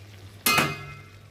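A lid is lifted off a pan of lote fish curry in a home kitchen, giving one sharp clattering clink with a brief metallic ring that fades under a steady low hum.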